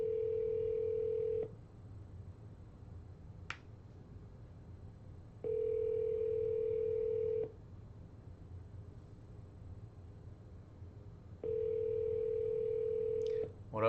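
A telephone line rings out during an outgoing cold call: a quiet, steady tone sounds in three separate bursts of about two seconds each, with several seconds of faint line hiss between them.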